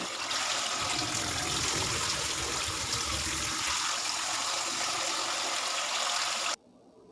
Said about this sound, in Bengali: তিনবার জল পাল্টে পাল্টে ভালোভাবে ধুয়ে নেবো হালকা হাতে